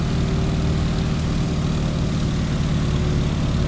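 Engine drone and propeller of a Stearman biplane in Microsoft Flight, throttle set for cruise and propeller pulled back to 1900 RPM, a steady loud low hum throughout with no voices.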